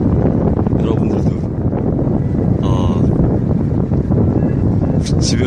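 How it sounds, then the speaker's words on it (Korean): Chilly wind buffets the microphone outdoors during an eel-fishing trip on the Han River, a steady loud rumble running throughout with someone talking over it. "아, 바람이 쌀쌀한데요, 아직은."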